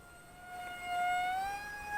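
A micro F-22 Raptor foam RC jet whines overhead with a thin, steady electric motor tone that swells and bends in pitch as it passes, moderately faint.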